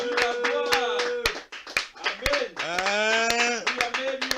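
A church congregation claps in scattered, uneven bursts during a worship service, the claps mixed under loud voices shouting and calling out.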